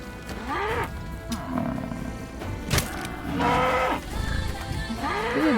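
A donkey in the farming game Medieval Dynasty brays repeatedly, its rising and falling honking calls coming in several loud bursts over a steady ambient bed, with a sharp thump in the middle.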